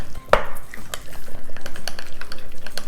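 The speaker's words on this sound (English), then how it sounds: "mix until it's nice and creamy" Butter and olive oil being stirred into a creamy spread for garlic bread, a utensil scraping a bowl in a quick, regular rhythm, close up after an initial clink.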